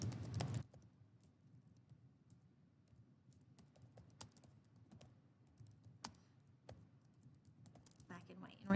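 Typing on a computer keyboard, quiet scattered key clicks at an irregular pace, with a louder burst at the start and a cluster of taps near the end.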